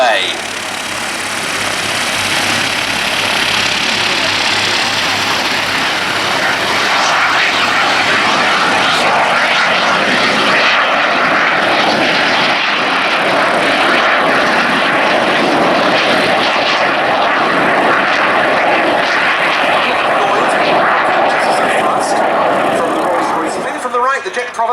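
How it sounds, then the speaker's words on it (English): A Jet Provost and a Strikemaster jet make a pass at the Duxford Air Festival, a loud sustained engine roar that builds and holds for many seconds, with a commentator talking over it. "The Jet Provost leading the Strike Master in for a topside pass to begin."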